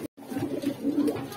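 A racing pigeon in a loft coos softly and repeatedly, a low rolling murmur heard close by and alone, after a brief cut of silence.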